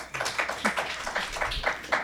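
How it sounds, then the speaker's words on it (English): Pensioners clapping in a meeting room, a scattered, uneven patter of hand claps at moderate distance, rising and falling in small bursts over a couple of seconds. "pensioners clapping."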